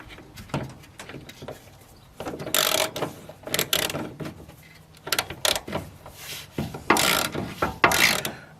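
A spanner ratchets and works loose a nut on the rear subframe of a 1982 classic Mini Mayfair. Bursts of clicking and metallic turning come close up in uneven spurts, with quieter handling between them and no talk.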